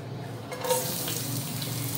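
Onions hit a hot pan and a steady loud sizzle starts abruptly and holds, close and continuous with no voices.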